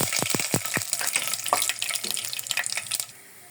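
Dried red chillies and five-spice seeds hit hot oil for a pumpkin fry, opening with a few sharp clattering bursts that settle into an uneven sizzle and fade near the end.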